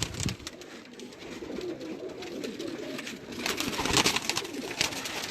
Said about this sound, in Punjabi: ਇਹ ਬਹੁਤ ਹੀ ਸੁਪੀਰੀਅਰ ਕਲਾਸ ਦੇ ਪ੍ਰਵਾਜ਼ੀ ਕਬੂਤਰ ਨੇ